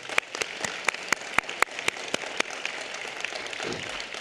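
Scattered applause at a county board public hearing, a handful of sharp, distinct claps standing out over thinner, quieter clapping that fades toward the end.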